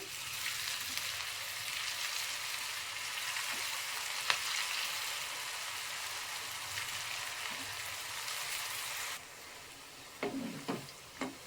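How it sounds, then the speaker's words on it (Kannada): Potato snacks frying in hot oil give a steady, fairly quiet sizzle that runs for several seconds, then drops away and gives way to a few close clinks and stirring sounds near the end. "ಈಗ ಆಯಿಲಲ್ಲಿ ಬಿಡೋಣ. ಚೆನ್ನಾಗಿ ಬಿಸಿಯಾಗಿದೆ, ಒಂದೊಂದೇ ಹಾಕ್ಕೊಂಡ್ಬಿಡೋಣ ಈ ರೀತಿ."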